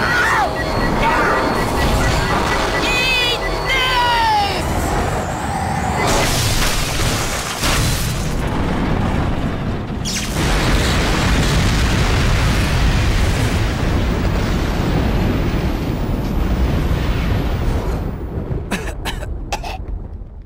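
A loud, sustained blast erupts in the video game No More Heroes, a dense rumbling roar that runs for many seconds before fading, with a voice and game effects heard before it.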